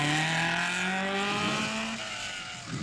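A rally car at the 1958 Alpine Rally passes close by, its loud engine note climbing and holding for about two seconds before easing off.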